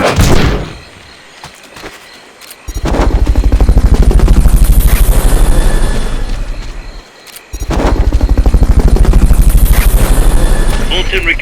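Helicopter in the stealth action game Metal Gear Solid: Peace Walker, a loud, steady rotor drone that swells twice across the clip with a brief dip between, mixed with gunfire-like clatter.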